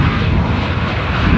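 A fixed-wing airliner passing at Amsterdam Schiphol airport, its jet engine roar steady, loud and close throughout the short stretch with no voices.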